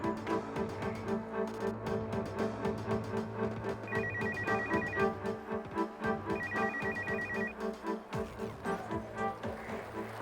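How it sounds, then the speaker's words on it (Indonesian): A telephone rings with a repeating electronic ringtone, its bursts coming in a regular rhythm over quiet indoor background, with no talking. "Nat, gue angkat telepon dulu ya di luar ya"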